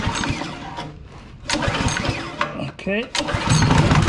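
A plate compactor's small engine sputters, catches and revs up, loud and close, with a pull-start rasp partway through and a short spoken word over it.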